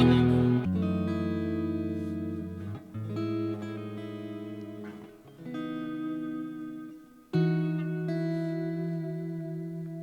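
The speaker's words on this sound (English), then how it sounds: "Default kind of sounds like this, very washy reverb involved." Clean electric guitar chords ring out one after another, each drenched in a washy, lingering reverb from a reverb pedal that blurs into the next.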